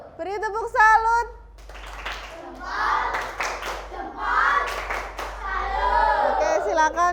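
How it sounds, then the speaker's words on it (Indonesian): A classroom of children performs a 'tepuk salut' clapping cheer, with several sharp, rhythmic clap bursts under loud chanting voices, after a single adult voice at the start and a steady low hum throughout. "Beri tepuk salut."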